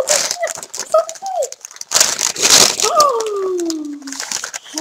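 A parcel package is torn open by hand, with loud bursts of ripping and crinkling paper or cardboard close by, while people talk with rising, excited voices around it.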